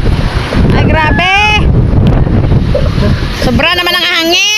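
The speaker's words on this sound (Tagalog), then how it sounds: "Sobra naman ang hangin." Strong typhoon wind from Typhoon Tino roars loud and unbroken, buffeting the microphone, while excited voices cry out over it.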